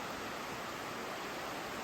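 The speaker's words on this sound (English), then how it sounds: "But there's the creek." Creek in the woods at Fires Creek, North Carolina, around dusk: a steady broadband rush of flowing water, even and unbroken, with no voices.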